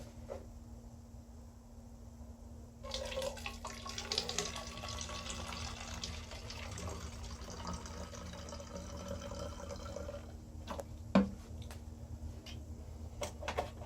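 Vinegar poured from a bottle into a container as part of a homemade weed killer mix, a steady liquid gush lasting several seconds before tapering off, with a faint click near the end.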